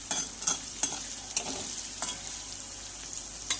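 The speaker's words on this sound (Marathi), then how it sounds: "मिरची छान अशी फ्राय झालेली आहे।" Green chillies fry in a pan, a steady close sizzle broken by sharp regular clicks and scrapes of a spoon stirring, with no talking.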